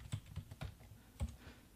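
Keystrokes on a computer keyboard as a spreadsheet formula is typed, a quick irregular burst of close, crisp clicks with a short pause before a final pair of taps.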